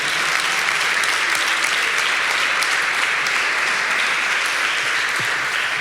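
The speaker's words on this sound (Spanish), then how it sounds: "diga amén y aplauda al Señor" A church congregation applauds together, dense steady clapping filling the room at full strength for several seconds without letup.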